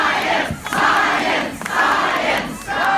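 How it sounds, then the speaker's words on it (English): An outdoor crowd on the Falmouth Village Green chants a two-beat rhythmic word in unison, loud and close, the chant repeating in steady surges with brief dips between them. "I never thought that I would hear a crowd chanting"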